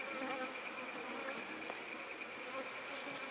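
Honey bees at a horizontal hive make a dense, continuous droning buzz that stays fairly even throughout, like many insects flying close around the entrance.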